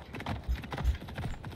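A horse's hooves clip-clop on the ground in the Assassin's Creed Odyssey video game, a quick uneven run of close, moderately loud hoofbeats over a short stretch.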